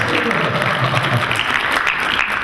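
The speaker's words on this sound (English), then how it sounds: "give her a round of applause" A small group applauds a student who has just made three out of three ball shots; short, lively clapping heard close, steady across the brief stretch with a little background murmur.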